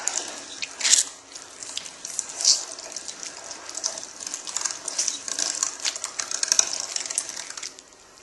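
A meat roller machine working deer venison, with a steady wet crunching and squishing as the meat is pushed through the roller, punctuated by a few louder squelches and no talking.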